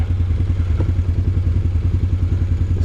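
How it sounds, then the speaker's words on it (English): Steady low, rumbling engine and drivetrain noise from a 2023 CanAm Outlander 850 XMR ATV, loud and close, with a continuous rhythmic churning grind throughout and no talk. "It's grinding."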